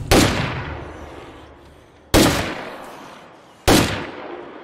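Three loud, separate gunshots in State of Decay 2, fired at a zombie horde, each a sharp crack with a long fading tail, spaced about two seconds apart.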